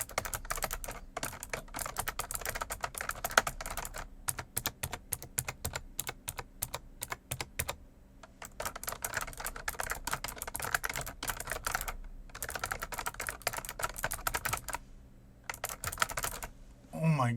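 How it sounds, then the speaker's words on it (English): Rapid clicky keystrokes on a 1STPLAYER K6 mechanical-feel gaming keyboard, close and steady, in bursts with a few short pauses between runs of typing. "now I am going to type on the other keyboard."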